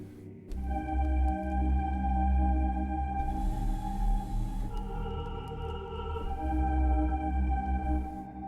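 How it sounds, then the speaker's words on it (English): A strong, sustained synth bass line with a low droning tone under high held notes, playing continuously without any voices. "That bass is real strong"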